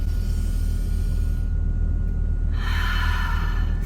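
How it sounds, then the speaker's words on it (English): One person draws a long, deep breath, an airy inhale that swells then fades, heard close over a constant low rumble of a truck cab. "Let's take a deep breath."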